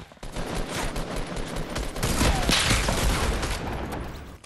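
Dense, continuous gunfire in Fortnite as a squad shoots down an enemy base, rapid overlapping shots and bursts with a few heavier booms, loud and close throughout, with no clear talking.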